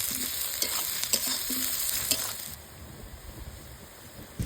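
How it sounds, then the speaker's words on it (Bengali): Onions and whole garlic cloves frying in a pan while being stirred, a close continuous sizzle with scraping spatula strokes that quiet down toward the end. "আর সঙ্গে দিব হচ্ছে কয়েকটা গোটা রসুন। এবার একসঙ্গে ভালোভাবে নাড়িচাড়ি নিব।"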